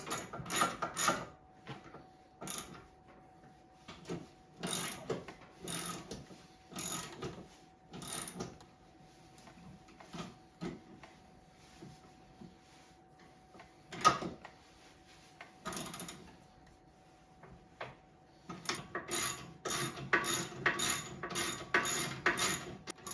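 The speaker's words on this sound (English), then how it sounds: "So yeah, we can tighten up our sway arm." A ratchet with a 12 mm socket tightens the sway arm bolt on a snowmobile during a shop overhaul, giving scattered bursts of close clicking and clanking metal work spread across the stretch.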